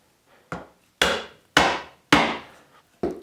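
A light mallet strikes a chisel chopping a through mortise in wood: five sharp, close taps spaced about half a second apart, each with a short woody ring-out, alone with no talk.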